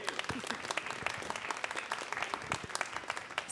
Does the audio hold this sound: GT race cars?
no